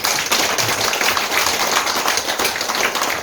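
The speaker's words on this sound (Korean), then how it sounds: "박수 한번 주시죠" An audience at a community organization launch event applauds in a steady wash of many hands clapping, dense and continuous throughout.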